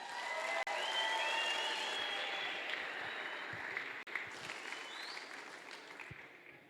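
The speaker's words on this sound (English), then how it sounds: "put your hands together for Australia!" Sustained audience applause at a Golden Shears shearing competition, greeting the Australian shearers; dense, steady clapping fills the whole stretch with a brief dip near the start and another around four seconds.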